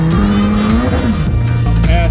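Nissan 180SX drifting at Morgan Park Raceway's first drift event, engine roaring loud and close with rising and falling revs and tyre squeal, a voice faintly under it.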